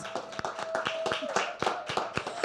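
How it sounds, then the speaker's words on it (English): An audience claps at a music listening party release event, the claps distinct and fairly sparse, with faint voices in the background. "Round of applause to yourselves."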